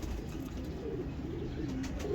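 Jonsiry desi pigeons coo softly and steadily, a low murmuring call that runs through the short stretch with no voices.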